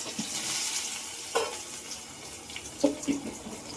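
Cumin, ginger, garlic and onion hitting hot oil in a pan, a low sizzle broken by a few sharp crackling bursts and stirring clatters as the spices are added, close by with no talking.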